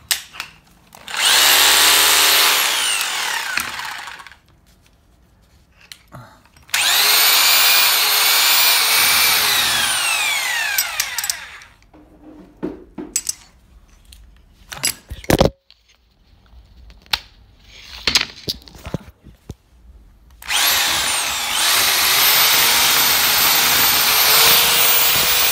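A DeWalt D25133 rotary hammer runs in several loud bursts of a few seconds each, with a high whining motor and hard hammering. Quiet gaps separate the bursts, and brief clicks and handling knocks fall between them.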